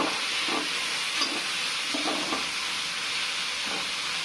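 Chopped onions sauté with a pinch of pink salt in a pan for chicken curry. A steady, close sizzle runs throughout, broken by a few soft scrapes and clinks as a spoon stirs them.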